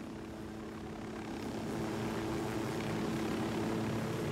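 Helicopter in the video game Ghost Recon Wildlands, a steady droning rotor and engine hum that swells slightly louder partway through and holds, with no talking.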